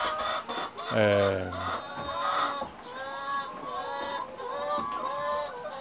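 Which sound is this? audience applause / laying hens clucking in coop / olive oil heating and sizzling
laying hens clucking in coop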